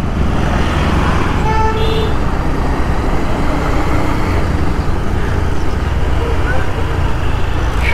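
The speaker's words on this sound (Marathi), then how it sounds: "एक जरी गाडी मध्ये असेल ना तरी पण अडकायला होतं लगेच" Dense evening road traffic on a busy street as school lets out, a constant loud roar of engines and tyres with a few brief horn toots rising over the rumble.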